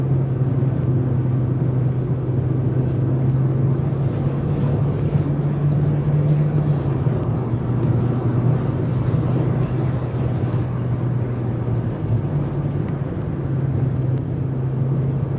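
Steady engine drone and road noise from a Mazda MX-5 Miata NA RS Limited while driving, a constant low hum with tire rumble holding evenly throughout.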